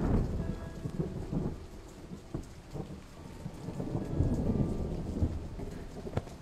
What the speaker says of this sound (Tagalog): Umuulan nung gabing yun.